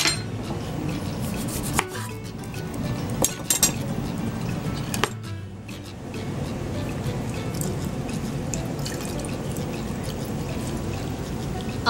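Juice of one lime is poured into a pineapple ginger margarita, a close, steady liquid pour and trickle heard alongside occasional glass clinks and handling knocks, with no talk.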